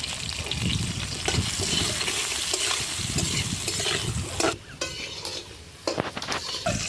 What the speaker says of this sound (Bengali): তেল গরম হয়ে গেছে, পটলগুলো দিয়ে দেবো।